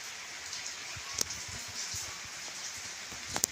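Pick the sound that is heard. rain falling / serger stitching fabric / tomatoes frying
rain falling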